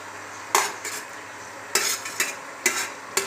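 Chicken fries in its own released oil as onion and garlic go into the pan: a steady background hiss broken by several sharp metal clanks of a utensil against the pan.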